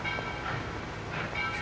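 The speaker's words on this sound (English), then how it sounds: "a train." A train heard from a distance near a fire in Lafayette, Georgia, a soft steady rolling rumble that stays faint and even throughout.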